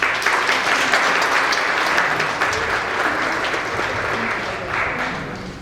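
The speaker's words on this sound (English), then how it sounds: "I will not step away and discourage it if you want to give your kids a round of applause" A large audience of families claps steadily for their children, a sustained dense wash of applause that stays loud throughout, with no talk over it.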